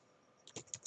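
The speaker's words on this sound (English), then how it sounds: "I'm going to type it." A brief burst of computer keyboard typing starts after a quiet moment: a handful of quick, close key clicks.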